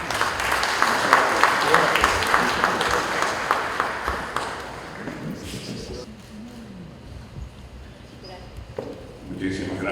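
An audience at a conference in Peru applauds loudly and steadily, the clapping thinning out and fading toward the end as a voice begins speaking over the fading claps.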